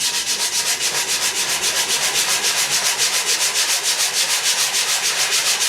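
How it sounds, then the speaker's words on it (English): Rapid, regular back-and-forth hand-sanding strokes with a foam sanding block rasp against a surface up close, a steady scrubbing rhythm with no voices. "you can just use it as a sanding block"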